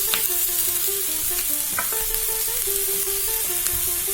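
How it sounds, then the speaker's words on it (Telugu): Chopped capsicum pieces tossed into a pan of frying onions and green chillies give a loud, continuous close sizzle with stirring scrapes and a brief clatter partway through. "ఇప్పుడు తరిగి పెట్టుకున్న క్యాప్సికమ్ ముక్కలు వేసుకుంటున్నాను"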